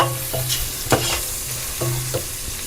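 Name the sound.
onions frying in a pan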